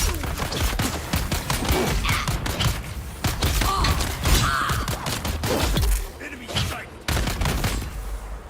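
Rapid gunfire aimed at the player in Dune Awakening: dense bursts of sharp, loud shots cracking in quick succession, with brief gaps and a few louder reports among them.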